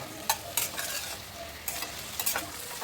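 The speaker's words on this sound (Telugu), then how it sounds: "హై ఫ్లేమ్లో కంటిన్యూగా ఇలాగ కలుపుతూ ఫ్రై చేసుకోవాలి." Eggplant curry being stir-fried on a high flame: a steady soft sizzle runs throughout, broken by several sharp scraping clicks of the spatula against the pan as it is stirred continuously.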